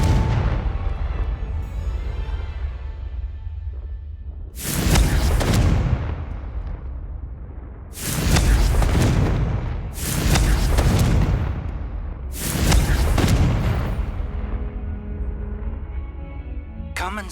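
Four loud Confringo blasting-spell explosions from the video game Hogwarts Legacy, each a broad booming burst about two seconds apart, rising over a quieter game soundtrack.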